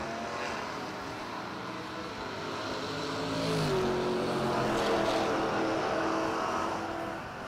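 Two drag cars, a little Chevy S10 and a 1974 Plymouth Duster, launch side by side at a drag strip, engines roaring steadily and swelling louder midway through the pass, heard from a distance without talk.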